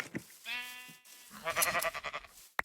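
Sheep in the Minecraft video game bleat twice, a short wavering bleat followed by a longer, louder one, heard clearly with no talking over them.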